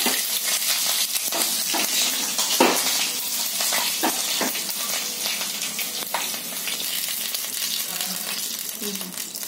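Green chillies sizzle in hot oil with mustard seeds, making a tempering for khaman dhokla, a steady close frying hiss with scattered pops and pan clinks throughout, a voice talking faintly over it.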